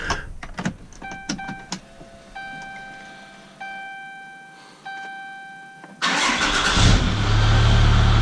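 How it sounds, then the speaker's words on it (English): A 4th-generation 6.7 Cummins diesel truck cranks and fires up after a series of dashboard warning chimes, the engine catching abruptly into a loud, steady rumble close by. "I'll start the truck and double check."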